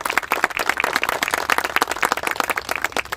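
Audience applause at the 2022 Kuykendall Awards Ceremony as a middle school honoree is called up, dense, steady clapping from many hands throughout, fairly close and loud.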